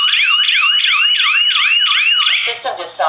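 An ACJ-407 GSM touchscreen alarm system siren wails loudly in a rapid, repeating swooping tone, about eight even cycles, before cutting off into brief clatter and handling noise.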